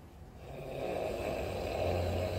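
A person imitating snoring, a low rumbling snore drawn out and growing slightly louder over a couple of seconds, close and alone without speech.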